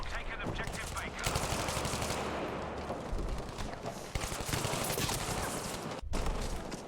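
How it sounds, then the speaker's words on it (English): Rapid gunfire echoes through a church during a video game battle, with bursts of automatic fire and single shots layered densely across the whole stretch, loud and continuous with brief dips, while a commentator's voice runs beneath. "Bullets going every which way inside the church."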